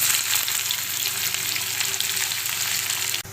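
Cumin and mustard seeds fry over a low flame in a pan for a mushroom pepper fry, a close, steady crackling sizzle that cuts off abruptly at the end.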